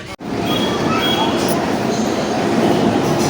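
Constant rumble and rattle of a moving train heading to Majestic station in Bengaluru, heard from inside a carriage, loud and steady for the whole stretch.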